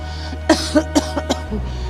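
An elderly woman coughs five times in a row, close and loud, with short gaps between the coughs. A low steady hum runs underneath.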